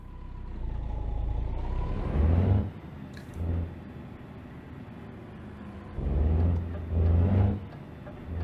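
A Ford Cargo truck engine in Euro Truck Simulator 2 rumbles steadily with low drone, swelling in a few revving bursts before settling back to idle.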